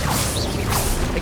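Incendio fire spell cast in Hogwarts Legacy on the Switch, a short dense rushing whoosh of flame with a mechanical crackle, loud and steady for about a second.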